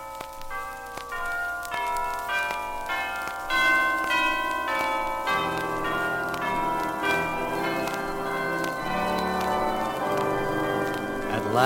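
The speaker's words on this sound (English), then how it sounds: "At last the glorious chimes were ringing." Church bells chime in layered, overlapping peals, rich ringing tones sustaining and building in loudness, with no talking.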